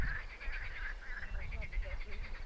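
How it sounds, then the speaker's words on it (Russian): Frogs and toads croak in a meadow chosen as a campsite, a steady pulsing chorus of many voices that stays moderately close and fills the whole stretch without pause. "лягушки нас уже встречают."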